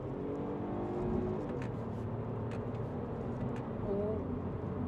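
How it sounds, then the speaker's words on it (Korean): A Mini Cooper 3-door hatchback accelerates with a steady engine drone and road hum heard from inside the cabin, holding a continuous level with no speech. "가속 한번 해보겠습니다"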